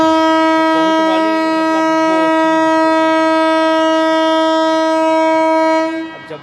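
A train horn blares a long, loud, steady chord close by along a railway track, holding for about six seconds before cutting off.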